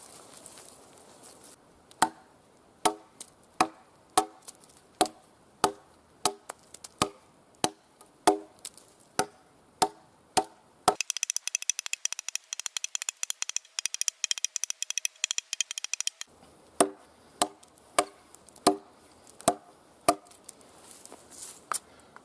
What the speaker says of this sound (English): I'm going to hold the piece of timber up and chop down